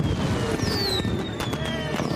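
Fireworks at a lavish party burst overhead with descending whistles and sharp crackling pops, mixed with voices and steady background noise.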